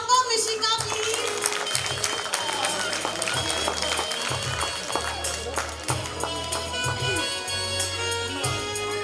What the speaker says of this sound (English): Clap for Mishika, please.